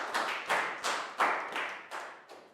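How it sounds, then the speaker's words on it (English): A small classroom group claps in a loose, uneven rhythm for a student, about seven distinct bursts of hand claps, each fading quickly, fairly close and with no voices. "Big round of applause for Pat Boone"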